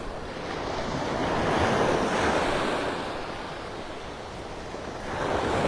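Small waves break and wash steadily onto Vanderbilt Beach in North Naples, Florida, a continuous surf roar swelling and easing, with wind buffeting the microphone.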